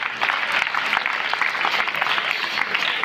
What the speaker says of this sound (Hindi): आपको बधाई देता हूं तालियों की गड़गड़ाहट के साथ